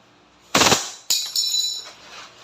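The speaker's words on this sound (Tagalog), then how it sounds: "Firing. Okay. Full automatic." A WE Hi-Capa T-REX airsoft gas pistol fires on full automatic: a sharp close burst, then a second rapid string of cracks with metallic slide clatter, ending as the slide locks open.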